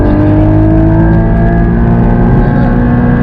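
Porsche GT4 at full throttle on the Nürburgring, heard from inside the car as a loud, dense, continuous engine roar that holds strong and steady throughout.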